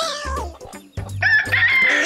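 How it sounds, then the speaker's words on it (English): Rooster crowing once, a loud close cock-a-doodle-doo preceded by a few short clucks from chickens on a farm. "That's the rooster crowing."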